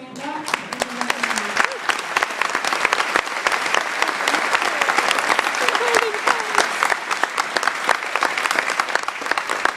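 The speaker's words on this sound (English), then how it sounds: "Please give the two wonderful speakers another round of applause." An audience at a graduation ceremony applauds steadily for the speakers, with sustained dense clapping and a few voices briefly rising over it.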